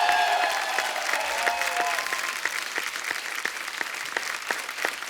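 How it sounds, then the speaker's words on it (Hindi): Studio audience on a TV comedy show applauding loudly and steadily, dense continuous clapping that fills the whole stretch with no break. "कितनी तालियां बजा रहे हैं"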